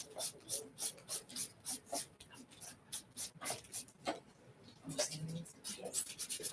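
Nails being filed with a nail file, a steady series of quick, close rasping strokes in an even back-and-forth rhythm that stays fairly quiet throughout.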